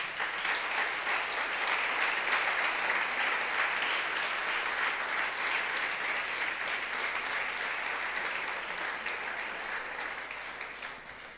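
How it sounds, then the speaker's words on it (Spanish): Congregation applause in a church service, a long, dense and steady roar of many hands clapping together, sustained at even loudness and fading slightly near the end. "Fuerte el aplauso al Señor."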